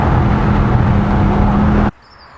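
A Jaguar F-Type SVR convertible accelerates hard, its loud, dense engine roar sustained close by for almost two seconds before cutting off abruptly into near silence.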